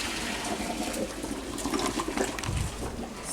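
Saved pasta water is poured from a pot into a bolognese sauce, a splashing, gurgling stream of liquid that runs continuously for a few seconds.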